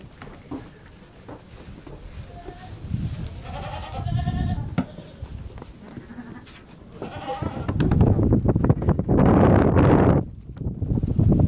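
Strong gusts of wind buffet the microphone outdoors, with occasional sheep bleats faintly audible amid the roar, the wind building loudest near the end.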